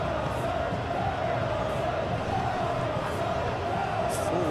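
Steady stadium crowd noise from a PES 2021 football match, a continuous roar with faint cheering swells running throughout at a constant level.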